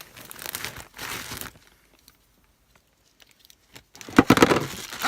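Pocket knife slicing open a cardboard shipping package of yarn, heard as close crinkling and tearing bursts at the start and end with quiet stretches between.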